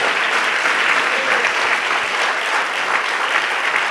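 Congregation in a church service applauding for the Lord, a dense, steady wash of many hands clapping at full volume throughout.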